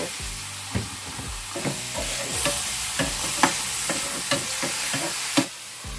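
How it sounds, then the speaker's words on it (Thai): Mixed chopped vegetables sizzle steadily as they are stir-fried in a wok for a northern Thai dish seasoned with hang le curry powder, with repeated scraping and tossing strokes close up and no talking. "ใส่ผักสารพัดผักลงไป"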